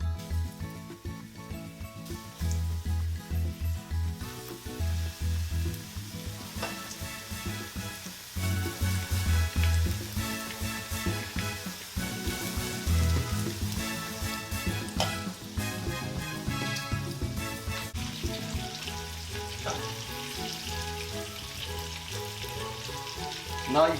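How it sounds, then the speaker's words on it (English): Cooking oil sizzles as chicken fries for homemade KFC-style chicken, a dense continuous crackle and hiss close up, steady throughout with occasional stirring or shifting pieces. "Once you hear the sizzling sound,"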